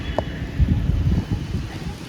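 Strong whirling wind blows fallen leaves along a street, a loud, close, buffeting rush with a rustling texture that lasts the whole moment.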